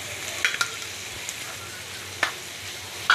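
Chicken meat frying in a pan with softened onions and green chilies, a steady low sizzle with a few sharp stirring scrapes and clicks, close and moderately quiet, no voices.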